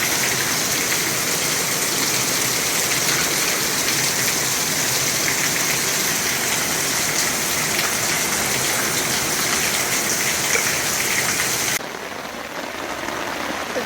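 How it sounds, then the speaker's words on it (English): Steady rain pours down outside near a leaking awning, a loud dense continuous hiss that drops to a softer patter near the end, no voices. "we're getting enough rain at the moment. It's been going for a little while"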